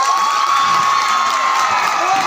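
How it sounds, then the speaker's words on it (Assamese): A crowd at a stage drama performance in Assam cheers and claps in a dense, steady wash of applause with shouts and whoops mixed in, loud and continuous throughout. "ধন্যবাদ এওঁলোকৰ বাবে এটা হাত চাপৰি"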